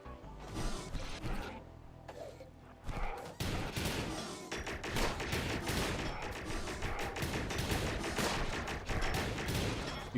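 Ship guns fire in a space video game with spacecraft, rapid bursts of gunfire crackling into a dense, sustained fusillade with mechanical clatter.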